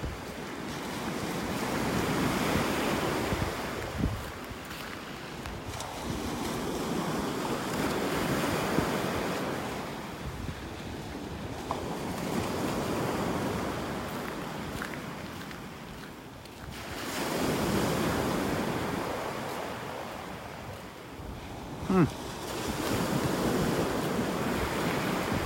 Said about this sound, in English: Wind's blowing right in my face now. Coming out of the north, it feels like.